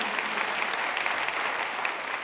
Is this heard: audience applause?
yes